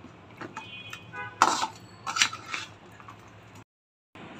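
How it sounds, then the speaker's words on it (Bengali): Cubed onions stirred in a cooking pan, with a few scraping and clinking bursts of spoon against metal, loudest in two short clusters, then a brief silence. "এখন আমি ভালো করে নেড়ে চেড়ে দিচ্ছি"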